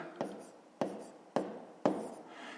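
Chalk or pen writing numbers for a division of a perimeter by 4, four sharp stroke onsets spaced roughly half a second apart, each trailing into a brief scratchy rub, close and fairly quiet.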